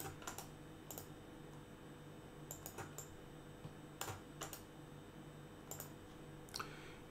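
Bursts of computer keyboard typing entering a browser address, quick clusters of keystrokes separated by pauses, close and fairly quiet over a steady low electrical hum with no talking.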